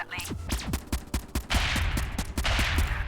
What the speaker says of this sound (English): That is a freaking heavy cannon, dude.